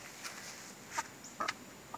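A few soft, short clucks from Golden Comet chickens sound quietly over a faint background hiss, spaced irregularly.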